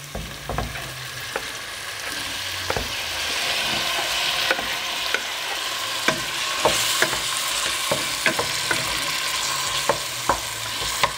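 Golden onions with crushed chili pounded with coarse salt and tomatoes fry in a pan for Réunion rougail graton, giving a loud, close, continuous sizzle punctuated by sharp utensil clicks and scrapes, without speech.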